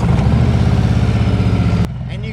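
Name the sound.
Harley-Davidson motorcycle engine running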